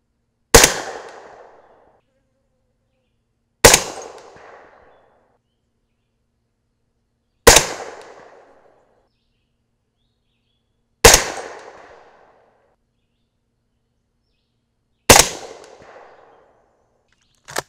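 A 300 Blackout rifle firing 220-grain Nosler Ballistic Tip subsonic ammunition at an outdoor range: five loud, sharp single shots spaced about three to four seconds apart, each with a short decaying tail, and no voices.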